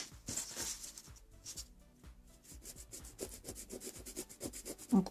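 A nail file rubs across the sides of a nail in quick, rhythmic scratchy strokes, close and continuous, with no talking.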